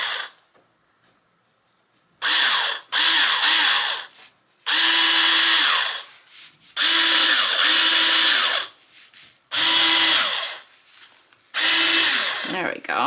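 A power drill bores a hole through a Dollar Tree harvest sign trimmed with burlap ribbon, running in several loud, close bursts of a few seconds each with short pauses between them as the motor revs up and winds down.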